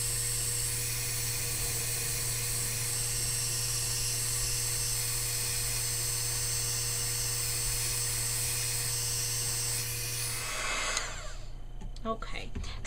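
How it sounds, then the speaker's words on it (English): A handheld heat embossing tool blows hot air over a Christmas card, a steady loud whirring hiss that runs continuously, then cuts off near the end, leaving faint handling noises. "now I'm going to pull out my heat embossing tool, and I'm just going to emboss that"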